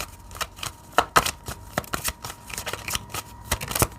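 Tarot cards handled and laid down on a table, a run of crisp close card slaps and shuffling flicks, irregular and sharp, with no talk.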